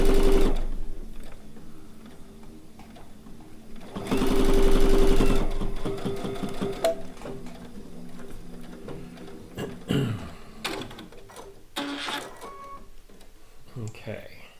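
A sewing machine runs in short bursts, stitching along the raw edges of fabric for a bowl cozy, with a person talking over and between the stitching runs.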